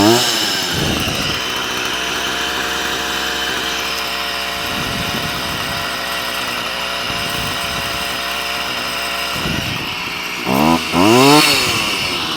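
A strimmer (line trimmer) two-stroke engine runs steadily at a buzzing idle throughout, close and loud, with brief revs near the end during carburetor adjustment.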